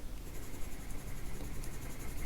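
A very dark pencil shades in part of an ostrich drawing, giving a steady, close scratchy graphite rasp with quick strokes, no talking.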